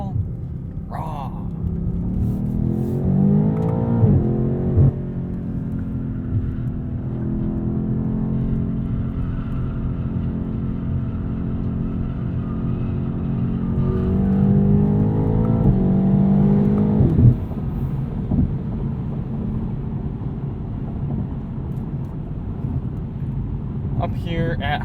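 A 2020 BMW M8 Competition Coupe engine drones and rises through revs at highway speed, exhaust rumbling steadily with gear changes and swells in pitch, a voice talking over it throughout.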